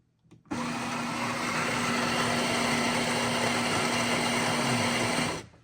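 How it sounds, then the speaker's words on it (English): A countertop coffee maker grinds coffee beans with a loud, steady motorized whir and a constant hum that runs for about five seconds, then cuts off. "It grinds the beans."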